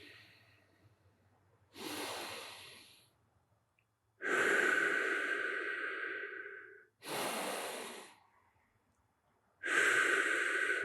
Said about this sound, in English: Give me a couple deep breaths here.